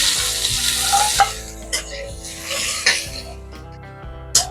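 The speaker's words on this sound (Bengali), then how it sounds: "পেঁয়াজ ভাজা হয়ে গেছে," Chopped onions frying in hot oil with dried red chillies and bay leaves, a steady close sizzle broken by scraping stirs of a spatula and a few short coughs.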